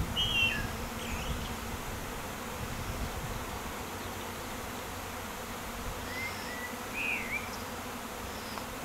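A large queenless honeybee swarm buzzes in a steady, dense drone that fills the air, with a few individual bees whining closer past now and then; no one speaks.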